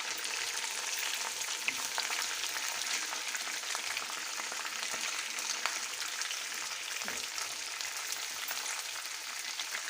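Tomatoes sizzling as they are set into a chicken karahi, a dense, steady hiss of frying oil close to the pan, with no talking.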